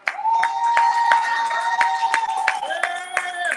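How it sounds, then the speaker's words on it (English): Clapping for a graduating student at a community gathering, scattered claps from a small crowd under a sustained voice or tone, with people talking. "Round of applause for her."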